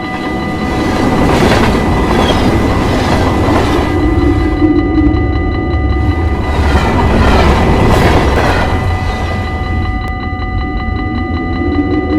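A KRL commuter train running on rails, a loud, steady rumble with rhythmic clickety-clack of wheels over joints and faint squealing, close and continuous throughout with no talk.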